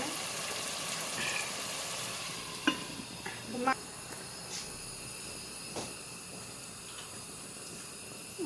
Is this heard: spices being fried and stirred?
yes